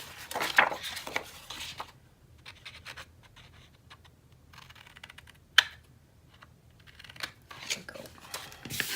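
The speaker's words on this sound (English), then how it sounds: "take your scissors and just trim in the tab just to the score line" Quiet snipping and scratching of scissors trimming a paper tab to a score line, a few short crisp cuts with soft rustling in between, close and faint.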